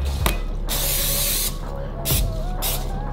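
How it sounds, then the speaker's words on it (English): Short bursts of light one-calorie cooking oil spray hiss onto raw chicken breast, two longer sprays followed by two quicker ones, close and fairly loud, with a few clicks from the nozzle. "we'll be just using this light one calorie spray"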